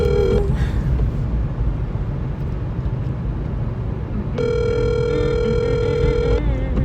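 A telephone ringback tone sounds during an outgoing call: a brief tone at the start, then a longer steady electronic tone of about two seconds near the end, all over a constant low rumbling background.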